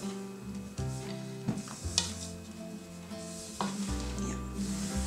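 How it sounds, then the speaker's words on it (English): A rubber spatula folds dry ingredients into meringue for French macarons, producing soft, wet swishing and scraping against the bowl in slow, repeated strokes, close and steady. "in 3 additions, incorporate the dry ingredients into the meringue"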